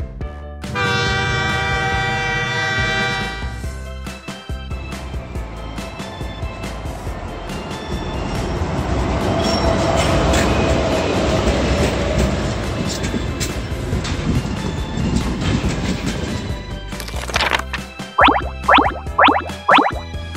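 A train horn blares, then a loud rumbling train rolls past steadily before a series of short horn toots near the end.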